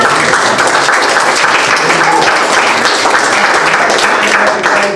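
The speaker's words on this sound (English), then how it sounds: "Give me another round of applause." An audience applauds after a talk about the Seneca Chief packet boat, a loud, dense and steady wash of clapping that fills the whole stretch, with a few faint voices mixed in.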